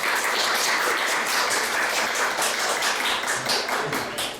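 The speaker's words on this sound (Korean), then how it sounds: "박수로 맞이했습니다." A lecture-hall audience breaks into steady, dense applause to welcome a lecturer. The clapping is loud and close and lasts without a break for over four seconds.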